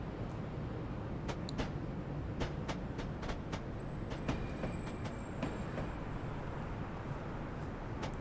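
Simulated New Haven Line electric train in Train Simulator Classic, a low rumbling drone with a series of sharp rhythmic clicks like wheels crossing rail joints, plus faint thin tones, continuous and fairly close.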